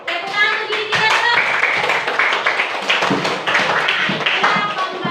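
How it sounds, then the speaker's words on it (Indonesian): A classroom of children claps for themselves, a dense, lively burst of close hand claps that runs throughout with young voices mixed in. "Tepuk tangan untuk diri kita dulu."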